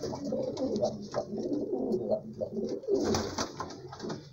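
Homing pigeons coo in soft, throaty rolling calls, several overlapping nearby, with a steady low murmur of cooing throughout.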